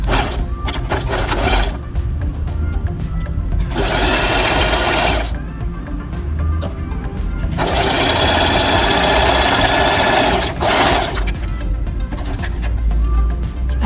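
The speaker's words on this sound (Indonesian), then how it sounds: "Kita jahit setengah mili." A sewing machine stitching a half-millimetre seam while making a kampuh, loud and close, running in several long sustained bursts with brief stops between them.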